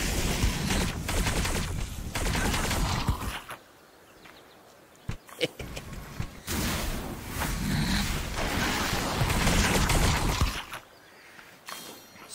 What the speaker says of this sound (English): Let me shoot these guys in the back